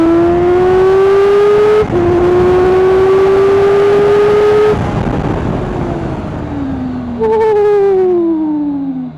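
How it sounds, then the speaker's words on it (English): KOVE 450R motorcycle, a 450cc 65-horsepower bike, launching hard under launch control, its engine note climbing steeply through several gears with brief breaks at each shift, loud and close. "Okay, let's try the launch control."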